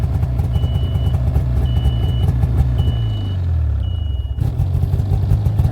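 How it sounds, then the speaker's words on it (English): A small engine runs steadily in reverse, a close mechanical drone with clattering texture and periodic high beeping; it briefly winds down and restarts, then keeps running loudly to the end. "start again, and now the engine's running backwards."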